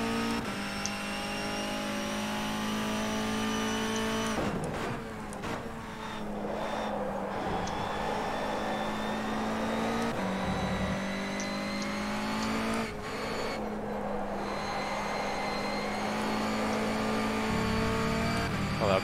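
Race car engine in a racing video game, a sustained high-pitched whine lapping a track, with gear shifts and throttle lifts breaking the drone every few seconds, loud and continuous.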